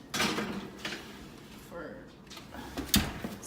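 An oven door is handled as blueberry muffins go in, giving a few soft clunks and scrapes, with a louder knock near the end, under a person talking quietly.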